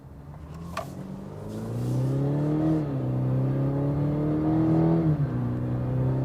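A 2020 Cadillac CT4 Premium Luxury accelerates hard, its engine rising in pitch through the gears with a brief dip at each upshift, a steady close interior drone with no talking.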